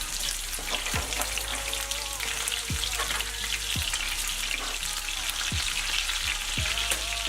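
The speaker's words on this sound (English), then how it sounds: "So what we're going to do is throw our onions in." Onions sauteing in a pan for Salisbury steak, a loud continuous sizzle with periodic clicks and scrapes from stirring, close up and without talk.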